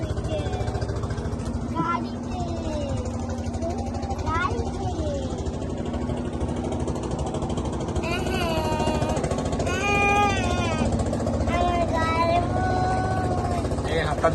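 A motorboat engine drones with a steady, close, buzzing hum on a river trip at Jaflong, Sylhet, while people, including a child, talk over it throughout.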